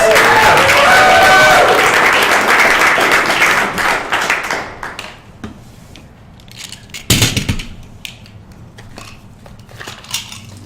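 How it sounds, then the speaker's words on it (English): Live audience at a comedy podcast taping breaking into loud, dense applause that tapers off over several seconds into scattered claps and a few lingering hand claps. "everybody, give him another round of applause"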